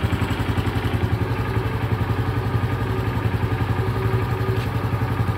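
Honda Pop 110i motorcycle engine pulling away, a loud close pulsing putter with regular rapid beats that rises slightly as the throttle opens, running alone without speech.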